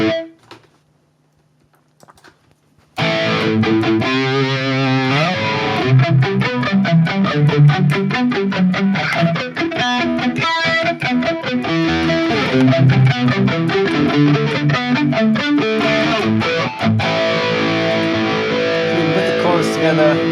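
After a quiet start, a Harley Benton Fusion electric guitar plays a busy 80s-style riff through a Sonicake Matribox 2 Pro with a shimmering, wide chorus and a spacious reverb tail.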